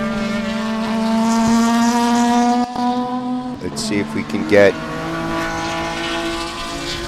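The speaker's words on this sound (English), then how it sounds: "Let us know if you can hear the race cars" Race cars run on track at Sebring during the Love Bug Dash, a steady engine drone with strong harmonics, briefly broken by a passing burst of revving, while someone talks over it.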